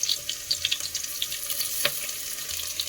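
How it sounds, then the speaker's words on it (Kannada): Onion, green chilli and ginger-garlic paste frying in a pan for chicken biryani, giving a steady close sizzle with light crackles and a few brief stirring clicks, no voices. "ಈಗ ಫ್ರೈ ಮಾಡ್ಕೊಳ್ಳೋಣ."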